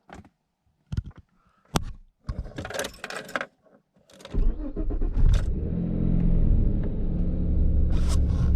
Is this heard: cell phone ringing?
no